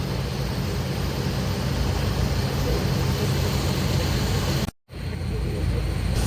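Steady, loud road and engine rumble from a vehicle cruising on an eight-lane ring road, broken by one abrupt momentary dropout.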